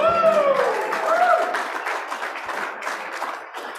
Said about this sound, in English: I know you all will applaud